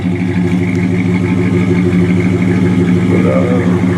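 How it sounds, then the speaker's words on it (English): A 1965 Chevrolet Impala SS with its original stock 283 V8 rumbles through the exhaust at a steady idle, loud and close, with a slight lift in revs near the end. "If you want the nice loud exhaust hot rod sound, this car's still got the original stock 283 in it, and it sounds really good"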